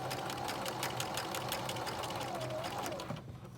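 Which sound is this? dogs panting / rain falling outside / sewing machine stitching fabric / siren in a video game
sewing machine stitching fabric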